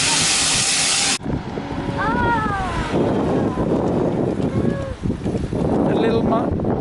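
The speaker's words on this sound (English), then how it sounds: "she's a saddle tank engine, one of my favourite types of engine." A saddle tank steam locomotive on a heritage railway gives a loud, close blast of hissing steam that cuts off abruptly, followed by rumbling ambience with voices talking nearby.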